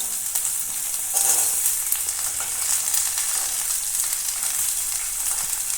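Onions sizzle in a pan with a little oil, a steady bright crackle that carries on evenly throughout, with faint stirring and no talking.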